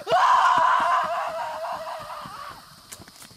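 A man lets out a loud, drawn-out scream beside a horse and a cow, strongest at the start and then fading over a few seconds, with faint scattered sounds after it.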